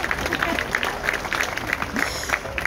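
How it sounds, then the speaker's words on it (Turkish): Applause from a concert audience for Cypriot dancers and the national team, steady dense clapping lasting a few seconds with a faint voice mixed in. "Kıbrıslı dansçılarımız için ve alkış istiyorum tabii ki"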